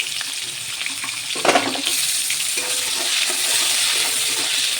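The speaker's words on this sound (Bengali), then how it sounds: "এই সামান্য একটু ভেজে নেবো পেঁয়াজ আর কাঁচা লঙ্কা।" Onion and green chilies fry in a generous amount of oil in a wok, giving a steady hiss that swells after a brief clatter as they go in, with no talking.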